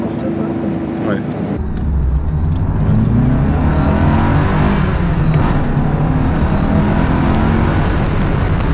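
Alfa Romeo 33 car accelerating, its engine note rising as a loud, steady drone that settles into a sustained roar after the first couple of seconds.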